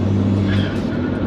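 The 310 bhp TFSI engine of an engine-swapped VW Caddy with air suspension and a six-speed gearbox gives a loud, steady, close drone with a throaty low hum, heard alone without talk.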